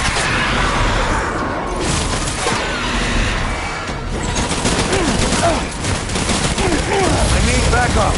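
Heavy gunfire in the video game Death Stranding, dense overlapping shots and bursts under loud in-game shouting, with crashes and a steady chaotic din throughout.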